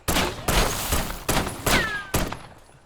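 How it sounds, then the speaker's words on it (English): Pistol fire in Call of Duty Black Ops 6 Warzone: five loud, sharp shots spaced roughly half a second apart in a steady, fairly slow rhythm, each with a brief ringing tail. "So you landing in Warzone with the pistol."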